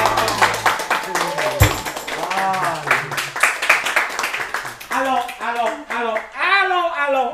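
An audience claps in a dense patter of quick hand strikes at a live comedy and singing show, mixed loud under a voice that talks and sings over it for most of the stretch.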